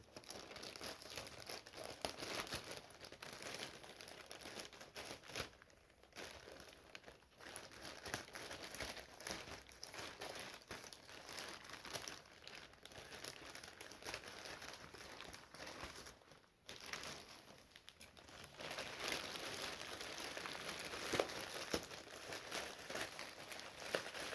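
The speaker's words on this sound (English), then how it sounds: "let's start the unboxing." Packaging crinkles and rustles continuously as a Teclast P50AI Android tablet is unboxed, steady close plastic and paper crinkling with small tears and brief pauses, no talking.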